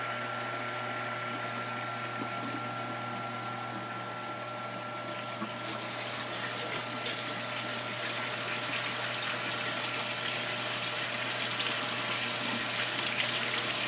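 A pond pump pushing water, a steady broadband rush of flowing water that swells slightly brighter partway through, continuous and close with no talking.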